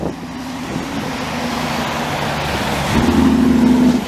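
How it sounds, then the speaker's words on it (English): Empty dump trucks passing on Boulevard Crémazie in Montreal: a continuous roar of heavy traffic with wind buffeting, and a louder rumbling engine drone swelling near the end as a truck comes close. "See, look at this. More dump trucks."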